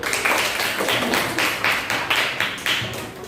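A classroom full of students claps for a student group, a dense run of close, rhythmic hand claps carrying steadily from start to end with no talk over it.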